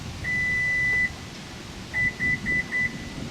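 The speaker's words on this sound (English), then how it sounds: "You will hear 4 beeps. It means that the door remembered this setting" An automatic door controller gives one long confirmation tone, then four short, evenly spaced beeps, clear and close over a low background hum.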